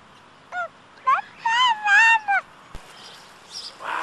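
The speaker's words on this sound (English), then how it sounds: "all the little baby birds, ducks and chickens, all hanging out together" Baby ducks and chickens gather together on a farm, giving a few short, clear peeping and quacking calls in a quick close-up burst, separated by brief pauses of quiet outdoor background.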